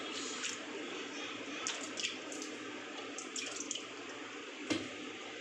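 Water pours and splashes steadily as paneer is rinsed in salted water, faint and close, with a few brief clatters, no speech.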